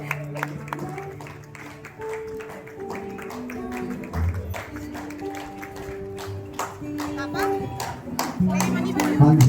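Rhythmic group handclapping at a wedding welcome ceremony in Darjeeling carries on steadily under children's chatter and other voices, fairly close and swelling toward the end.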